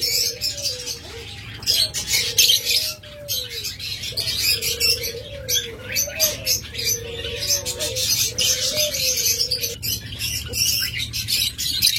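Caged pet lovebirds or budgerigars chirping and tweeting continuously, with busy high twittering over a low background hum and a faint cooing tone.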